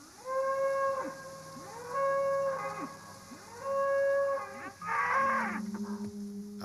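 A herd of cattle penned in a large enclosure gives a run of loud, drawn-out moos, several calls one after another with short pauses between, ending in rougher overlapping lowing.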